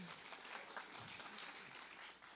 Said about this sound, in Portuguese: Uma salva de palmas para eles aí.